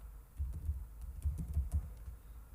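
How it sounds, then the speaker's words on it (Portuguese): Someone typing a table name into Excel on a computer keyboard: soft, close key taps in irregular small bursts over a low room hum, with no one speaking. "apago o valor que se encontra ali e digito o nome da minha tabela"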